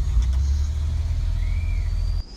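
Pickup truck engine in the Roblox racing game, a steady loud low rumble that drones evenly for about two seconds and then cuts off abruptly.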